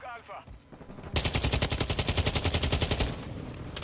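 Video game gunfire erupts as a loud, rapid automatic burst of roughly fifteen evenly spaced shots, then tapers off, after a brief, quieter lead-in.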